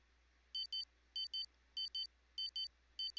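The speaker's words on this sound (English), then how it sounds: "And an alarm clock?" An alarm clock rings in repeated pairs of quick high electronic beeps, about five double-beep bursts evenly spaced over a low steady hum, with no voices.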